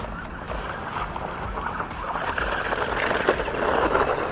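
An HBX 12891 4WD radio-controlled car drives through a water puddle, giving a steady, close sloshing and rushing of splashed water that swells slightly toward the end.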